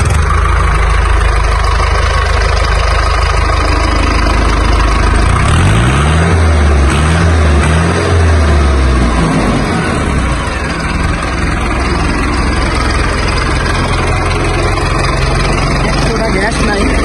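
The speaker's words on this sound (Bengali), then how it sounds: "গাড়িটি স্টার্ট দিই, সাউন্ডটি শুনতে পাবেন।" A secondhand Mahindra tractor with a double-wheel trolley runs close by with a steady low diesel rumble, briefly rising and falling in pitch midway before settling back to a constant idle.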